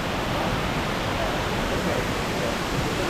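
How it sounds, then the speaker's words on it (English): A waterfall on a river in the Dominican Republic roars as a steady, dense broadband rush, loud and close, with no pauses or changes over a few seconds. "Waterfall."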